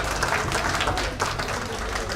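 Wedding guests at a Nepali Christian holy matrimony ceremony applaud together after the pastor's sermon, a steady, fairly close burst of clapping with some voices mixed in.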